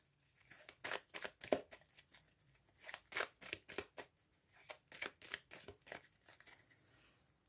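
A deck of cards is shuffled and cut by hand during a tarot reading: a quick series of soft papery riffles and slaps, close and quiet, with no talking.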